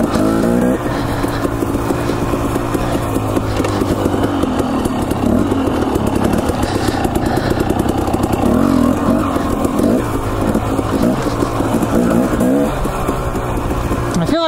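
A dirt bike engine drones steadily while riding single-track trail in Idaho, a loud, close, continuous buzzing roar that shifts pitch with throttle changes throughout, with no voices.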